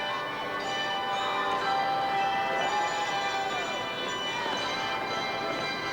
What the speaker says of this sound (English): really lovely to hear these bells